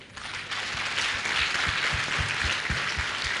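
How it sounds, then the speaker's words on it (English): A school audience gives a round of applause at a student event, many hands clapping in a continuous, moderately loud wash, with a few sharper individual claps standing out. "I would like you people to give them a big round of applause"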